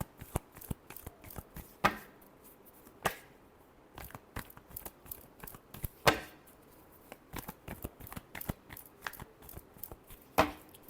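Tarot cards are shuffled by hand in a quiet room, giving crisp riffling bursts and sharp taps repeated irregularly, close and fairly faint.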